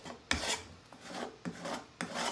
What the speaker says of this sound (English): sand a little bit more of your top coat off if you want to